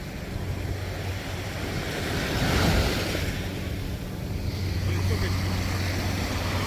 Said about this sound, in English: I'm right here by the waves